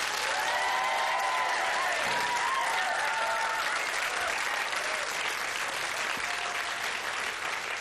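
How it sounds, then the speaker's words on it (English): A studio audience on a British children's quiz show applauds steadily as a contestant from a Nottingham comprehensive school departs, broadband clapping sustained throughout with a faint tonal music sting underneath. "So for Nicola, as she leaves us, a big round of applause,"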